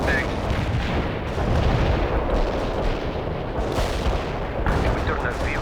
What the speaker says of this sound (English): Artillery strike success.